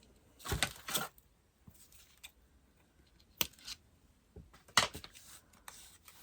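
Scissors snip cardboard for a spring bunny craft in a few short, sharp bursts, separated by quiet pauses and faint handling sounds at close range.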